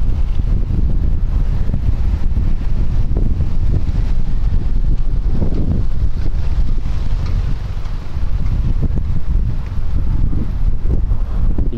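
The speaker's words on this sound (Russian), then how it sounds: "Вот с этими тучами пришел ветер. Немножко мешает, конечно." Wind buffets the microphone during a bicycle ride through Espoo, a loud, continuous low roar with gusty swells across the whole stretch and no voices heard.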